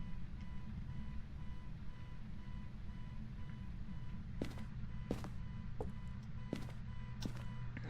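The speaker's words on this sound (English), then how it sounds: "Because it did indeed turn on the car." A car engine idles in the Phasmophobia video game, a faint, steady low hum that holds throughout, broken by a few sharp clicks near the end.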